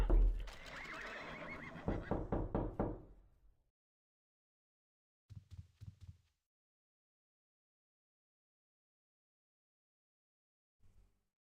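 A horse in the online game Ultima Online gives a loud, close whinny lasting a few seconds, followed after a pause by short snorts or hoof clops.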